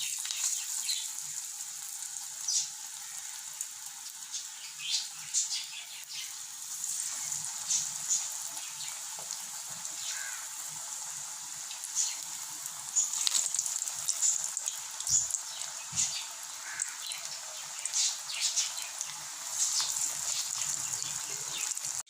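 Chickpea vadai, flattened patties of chickpea batter, frying in hot oil with a steady crackling sizzle and scattered pops throughout, close and moderately loud, with no one speaking.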